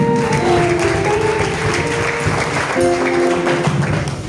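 Church congregation clapping and applauding for Jesus during a testimony service, steady dense applause lasting throughout with sustained organ or keyboard chords underneath.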